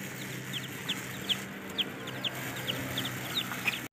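Little chicks sitting on a handmade mini Ferris wheel swing peep in short, high, repeated chirps at a fairly even pace over a soft background hum, with no talking.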